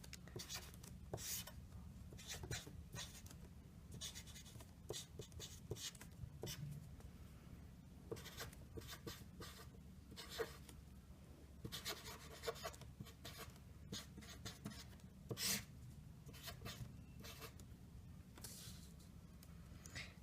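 Pen or marker scratching across a writing surface while a maths derivation involving logarithms is written out, a close, steady run of short rubbing strokes and taps with brief pauses between them, no talking over it.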